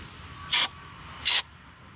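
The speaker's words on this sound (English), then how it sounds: "I'm gonna hit the carb really quick with some cleaner." Carburetor cleaner sprayed onto the carb of a Corvette that had been sitting unused, in two short, loud, close hissing bursts separated by a brief pause, with no talking.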